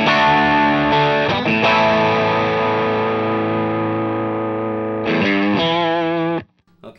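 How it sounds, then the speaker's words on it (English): Electric guitar driven through a Maxon overdrive pedal into an Andrews Para Dyne 50 amp rings out sustained, gritty chords. The chord changes near the end, then the playing cuts off abruptly. "when I add the Maxon to it, it seems to blend nicely with the sound of the amp"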